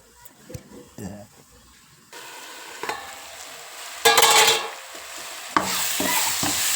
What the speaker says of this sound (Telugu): చూడండి ఇప్పుడు ఉల్లిపాయలు బాగా కొంచెం మగ్గుతాయి